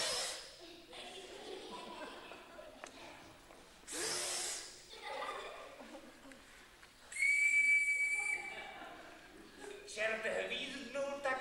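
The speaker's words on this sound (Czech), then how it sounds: "Čert hvízdnul tak silně," A devil character in a Czech stage fairy-tale play at the Na Věži theatre in Jičín lets out a loud, piercing whistle lasting over a second, standing out among actors' voices and other stage sounds.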